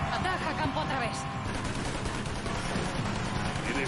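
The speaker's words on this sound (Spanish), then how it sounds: "Tuviste suerte y vimos los disparos mientras escapábamos." Gunfire in the Mafia 3 video game: a dense, continuous crackle of shots and bursts running through the whole stretch, mixed with game sound and speech.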